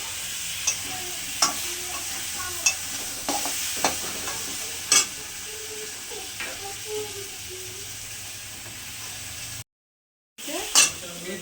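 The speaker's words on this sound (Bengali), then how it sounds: "এবার হলুদ দিলাম এবার একটু ভেজে নেবো তারপরে মশলাটা দেবো" Turmeric and spices stirred and frying in a pan for a fish curry with potato and plantain, a steady sizzle broken by repeated sharp scrapes and clinks of a utensil, close and fairly loud, with a brief dropout near the end.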